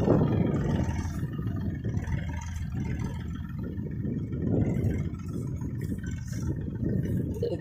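A Massey Ferguson 245 DI tractor pulling a heavily loaded trolley drones steadily with a low, even engine rumble, heard from a moderate distance without talk.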